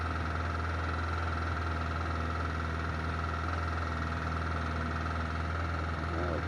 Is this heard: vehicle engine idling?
yes